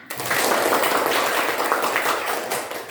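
Schoolchildren in a classroom clap together in a sustained, fairly loud burst of applause that fills the whole moment, tapering slightly at the end.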